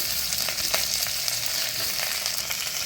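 Brinjal, tomatoes, curry leaves and green chilies sizzle in hot oil in a pan, a dense, steady crackling fry heard up close with light stirring, no voices.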